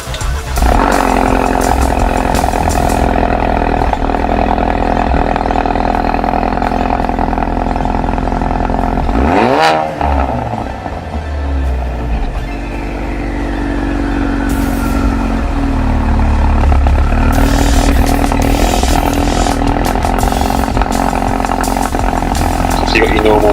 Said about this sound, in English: There is a slight difference, of course, in the exhaust noise.